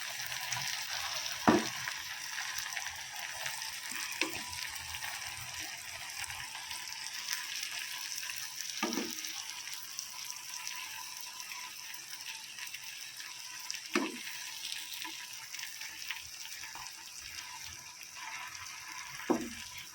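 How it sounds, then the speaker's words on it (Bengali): Green chili tempering sizzles steadily in hot oil in a pan of cooking greens, a continuous close frying hiss with occasional sharp pops and stirring clinks. "সামান্য একটু কাঁচা লঙ্কা ফোড়ন দিয়েছি"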